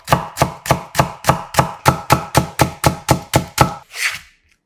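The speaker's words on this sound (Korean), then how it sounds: "대파 한 대 얇게 쫑쫑 썰어 준비하고" A knife finely slices a green onion on a cutting board, about a dozen loud, evenly spaced close chops in quick rhythm, then a softer final scrape and silence.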